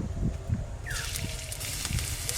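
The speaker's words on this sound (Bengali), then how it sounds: "এবার কোড়াতে তেল দেব সর্ষের তেল" Mustard oil poured into a pan, a soft continuous trickle and light sizzle under a steady background noise, with low thumps early on and no talking.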